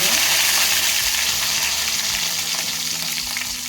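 Cumin seeds and curry leaves, added after mustard seeds pop, fry in hot oil for a traditional broad bean curry, a loud continuous sizzle close by with steady crackling throughout.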